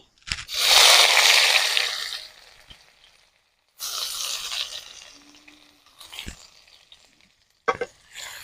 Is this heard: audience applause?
no